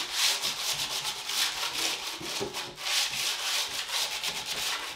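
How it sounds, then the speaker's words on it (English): A painted wooden panel being sanded by hand, giving a steady rhythmic rubbing and scratching in repeated back-and-forth strokes, close and moderately loud with no talk. "Right, let's get this sanded."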